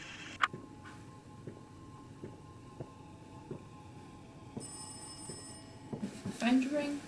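A telephone rings inside the horror video game Rise of Insanity, sounding as faint, evenly spaced tonal rings under a quiet game ambience, with a few louder noises near the end.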